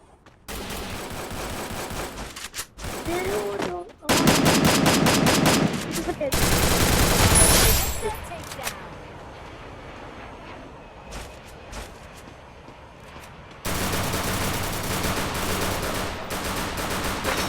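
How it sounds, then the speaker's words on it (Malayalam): Bursts of rapid video-game gunfire, loud and close, with repeated automatic volleys and pauses between, plus scattered shots and effects. "അകത്ത് വെടിപൊട്ടുന്ന"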